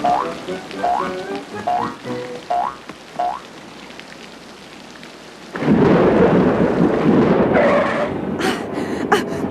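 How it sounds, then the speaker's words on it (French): A thunderstorm breaks with a loud rumbling crash of thunder that gives way to a rushing downpour of heavy rain, following a stretch of quieter rhythmic chirping. "L'orage va éclater."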